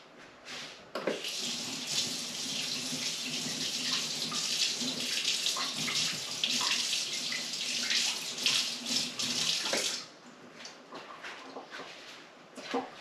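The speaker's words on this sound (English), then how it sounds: "And we'll wash our knife off." A kitchen knife is rinsed under a running tap, a steady close hiss of flowing water lasting about nine seconds before the stream is shut off.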